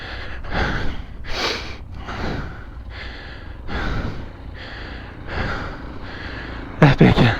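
Heavy, rhythmic breathing from a rider filming a trail ride with an off-road motorcycle group, close and loud, with repeated gasping inhales and exhales in steady cycles and a brief louder burst at the end.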